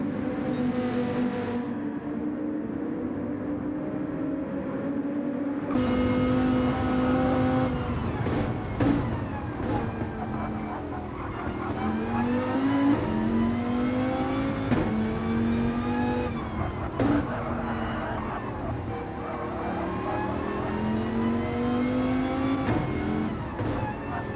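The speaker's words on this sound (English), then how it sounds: "So Toasty will take us through our first hot lap of the session." A race car in a racing video game drives a hot lap, its engine revving hard and droning, dropping and rising through gear changes and corners, loud and continuous.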